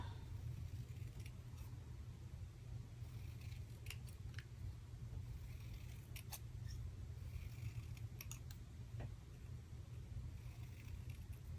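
Scissors trim papercraft card pieces with a few faint, scattered snips over a steady low hum, with no talking.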